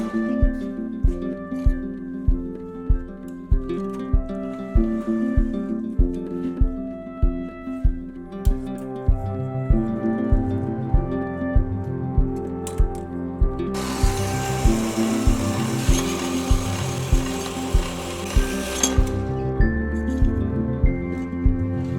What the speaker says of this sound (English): start cutting all the flat bar